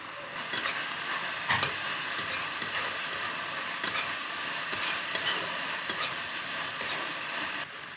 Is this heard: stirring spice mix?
yes